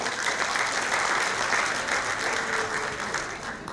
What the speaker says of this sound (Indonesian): Boleh tepuk tangannya Bapak Ibu semuanya?